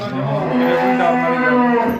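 A single long, loud buffalo moo, deep and drawn out, heard up close with nothing else around it.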